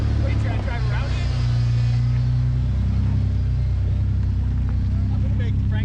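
An off-road vehicle drives the Mojave Road, its engine a steady low rumble close by throughout, under people talking loudly inside the vehicle.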